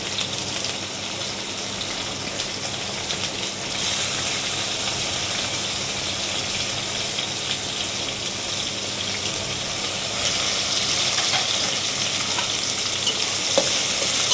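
Sliced onion and green chillies frying in oil while being stirred, a dense, continuous sizzle up close that swells louder in a couple of places as the pan is worked.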